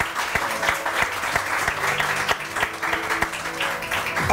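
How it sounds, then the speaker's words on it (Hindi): A studio audience on a morning television show applauds a guest with sustained, dense clapping at moderate loudness for several seconds. "Put your hands together for Ms. Nadia Hassan"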